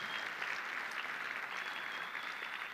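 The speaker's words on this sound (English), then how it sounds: "Can we give all of our kids a big, massive cheer and encouragement this morning?" A church audience cheering and applauding for the kids, a dense steady wash of clapping that holds level and loud throughout with no talk over it.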